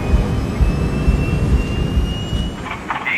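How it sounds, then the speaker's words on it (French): Aircraft jet engines captured on a cockpit voice recording of Air Florida Flight 90, a steady dense roar filling the whole stretch, loud and continuous with a faint high whine above it. "ne garder que la fréquence correspondant au bruit des moteurs"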